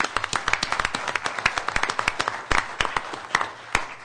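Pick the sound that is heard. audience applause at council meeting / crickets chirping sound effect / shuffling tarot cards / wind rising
audience applause at council meeting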